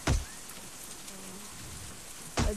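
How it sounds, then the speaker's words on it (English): Rain falling in the survival video game Out Of Reach, a soft steady patter throughout, punctuated by two sharp loud thumps at the start and near the end. "the rain mechanic"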